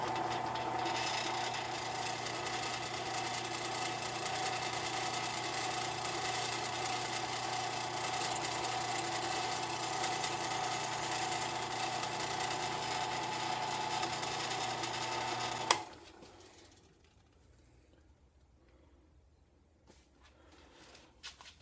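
A number 26 drill bit bores holes during an Ithaca 37 Buckslayer shotgun project, giving a steady, close grinding whine for about sixteen seconds before it cuts off abruptly into near silence.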